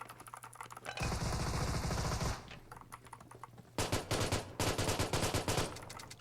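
Pump shotgun fire in a squad battle video game arrives as quick bursts of sharp, crackling shots, a long cluster early on and then repeated rapid blasts after a short pause, with no one talking.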